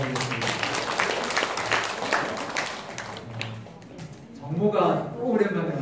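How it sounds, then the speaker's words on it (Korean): A church congregation claps to welcome a returning young member, a dense patter of many hands under a speaking voice, fading briefly before another short burst near the end. "박수로 환영해 주시면 감사하겠습니다"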